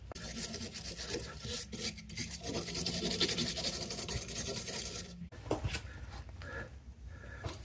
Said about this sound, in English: We'll wire brush it quickly, clean it up